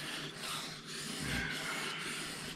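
A knife blade is drawn along the length of a whetstone in continuous, close, scraping rubbing strokes at moderate volume.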